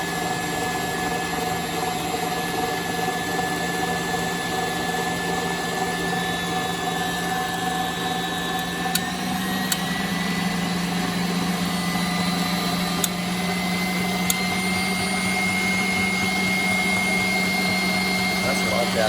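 KitchenAid grain mill grinding chia seeds, a loud steady motor whine and hum running continuously with a few faint clicks and no pauses.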